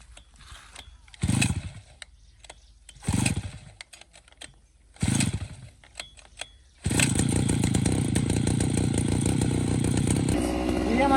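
A petrol grass cutting machine in a farm field sputters through several short pull-start attempts, then catches and runs at a loud, steady roar close by for several seconds before the pitch drops near the end.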